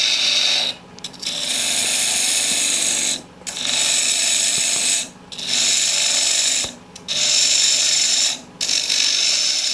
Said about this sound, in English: we're gonna go to a round carbide tip cutter